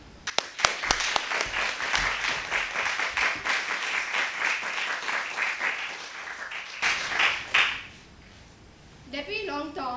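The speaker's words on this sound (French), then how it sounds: "Je vous demandais encore d'applaudir très très fort Sanchi." Audience applause at a French-language eloquence competition final, steady clapping that rises after a few sharp early claps, holds for about seven seconds, then fades as a voice begins speaking.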